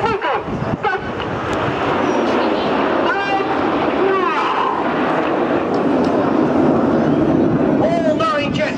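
Red Arrows jets flying a chevron formation barrel roll at a seaside air show make a steady, broad engine roar under wind noise, with a commentator talking over it.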